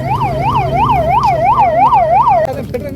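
A wailing ambulance siren rises and falls in steady cycles, loud and close over road noise, then cuts off abruptly near the end.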